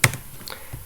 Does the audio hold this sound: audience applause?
no